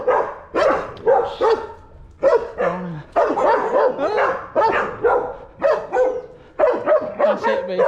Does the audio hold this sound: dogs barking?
yes